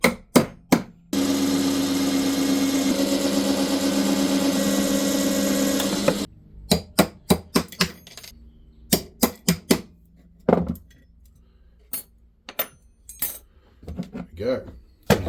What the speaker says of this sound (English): I'm going to drill this apart and nick the saw blade off it.